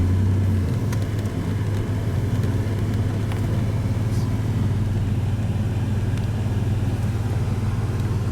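A DeLorean cruises at steady speed with Evo shock suspension fitted, a low, even engine and road rumble droning throughout, with a few faint ticks and knocks above it and no speech.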